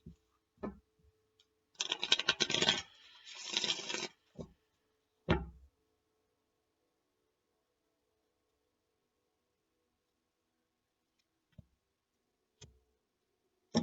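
Quiet room with a couple of soft taps, then a burst of crisp riffling and shuffling tarot cards, a few clicks as the deck is cut, and long near-silence afterward.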